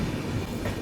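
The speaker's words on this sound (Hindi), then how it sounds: "ये अपनी आनंद विहार दरभंगा अमृत भारत एक्सप्रेस, इंडिया की पहली अमृत भारत" The Anand Vihar–Darbhanga Amrit Bharat Express rolls past in a steady, dense rumble of wheels and rail noise, heard briefly and without talk.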